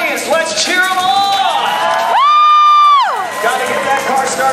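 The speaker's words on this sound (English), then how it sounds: "Audience, let's cheer them on." A crowd at a theme park stunt show at Universal Studios Orlando cheers and whoops loudly, with rising and falling shouted voices swelling to a sustained peak mid-clip before easing back into general hubbub.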